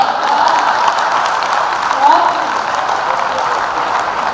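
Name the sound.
audience applause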